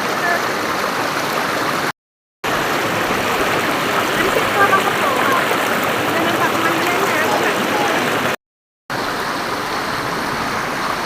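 A river flows as a loud, steady rushing wash of water at Bukit Siron on the Jantho–Lamno road, continuous apart from two short cuts to silence.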